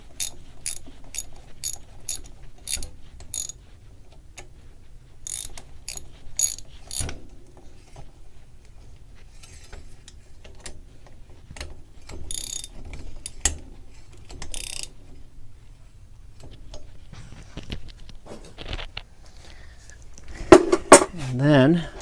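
Tightening a bicycle bottom bracket produces a series of sharp metallic ratchet clicks and tool knocks, spaced irregularly with quiet gaps and a burst of clatter near the end.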